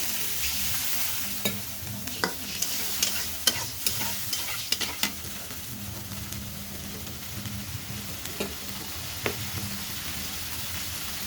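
Ginger-garlic paste with a splash of water fried and stirred in a pan for a koi fish tomato bhuna, a steady sizzle with repeated scraping stirs of the spoon, close and alone with no talk.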